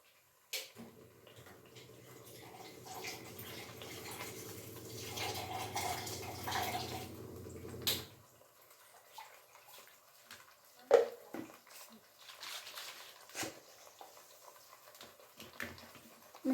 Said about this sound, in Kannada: ಮಿಕ್ಸಿ ಜಾರ್ನಲ್ಲಿ ಸ್ವಲ್ಪ ಮಸಾಲೆ ಉಳಿದಿತ್ತಲ್ಲ, ಅದಕ್ಕೆ ಸ್ವಲ್ಪ ನೀರು ಹಾಕ್ಕೊತಿದ್ದೀನಿ ಇದರಲ್ಲೇ